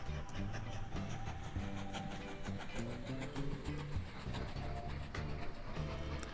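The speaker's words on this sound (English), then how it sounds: "our other train, train 2, that's coming out of the depot" A train rolls out of a depot in the railway game Mashinky, with a soft, steady rumble and rhythmic clacking that continues throughout at low level and no talk.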